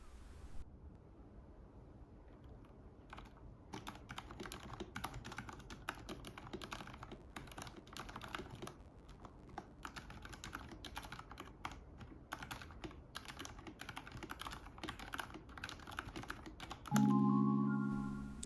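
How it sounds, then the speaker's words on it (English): Typing on a Vissles keyboard at a desk, a steady run of close, crisp key clicks and clacks lasting over ten seconds, alone without talk and ending in a brief louder thump. "here are some typing sounds."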